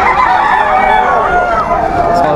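A rooster at a pet market, thought to be sired by a red junglefowl, crows in one drawn-out call that carries through the whole moment, close and fairly loud against a busy background.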